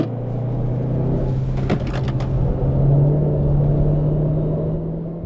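A front-wheel-drive Renault Megane R26R on a wet Nürburgring gives a loud, close engine drone that climbs steadily in pitch under hard acceleration, with a short burst of tyre and road noise partway through.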